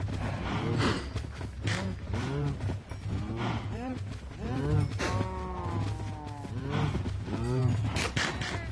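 Cows moo repeatedly in the video game Minecraft, a steady series of drawn-out lowing calls layered over one another, loud and close against continuous background game noise.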